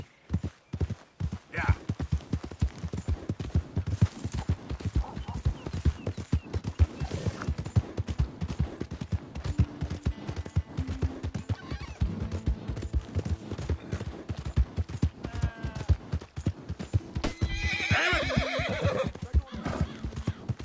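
Steady clip-clopping horse hooves run throughout with a loud whinny near the end, over game music and busy background noise in Red Dead Redemption 2.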